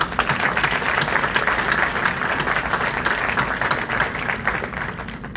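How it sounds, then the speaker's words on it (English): Attendees at a county commissioners' meeting give a round of applause, a sustained, fairly loud burst of many people clapping in a hall that holds steady before easing slightly at the end. "One more time, let's give a round of applause."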